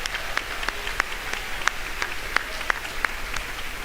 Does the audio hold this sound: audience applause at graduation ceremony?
yes